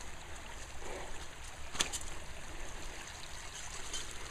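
Water from a natural drain trickles into a small prise d'eau, a faint, steady flow with a soft running texture and one brief sharp click near the middle.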